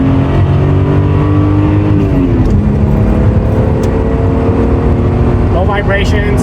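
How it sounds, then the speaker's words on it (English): A Toyota Cressida MX83 with 53,700 miles rumbles loudly and steadily up close, its exhaust note shifting pitch as the engine revs, with a bit of talk mixed in. "I'll give it a little exhaust note for you guys"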